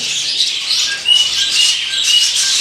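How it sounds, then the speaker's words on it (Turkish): A female rosella parrot gives a mating call, a continuous high, rapid chattering and chirping, loud and close, with no talking. "Çiftleşme çiftleşme çağrısı yapıyor."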